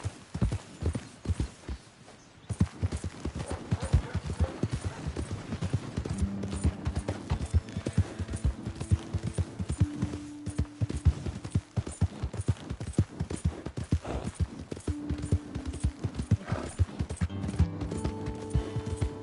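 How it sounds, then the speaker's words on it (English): Continuous clip-clop of horse hooves at a brisk pace in a PS4 video game, with game music tones and occasional clatter layered in, steady throughout. "My horse!"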